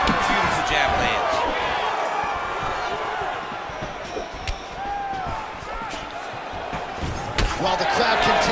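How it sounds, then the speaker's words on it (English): An arena crowd in the UFC 5 video game roars steadily as strikes land, with a sharp thud of impacts and a commentator talking over the noise throughout. "the crowd continues to react with every passing land"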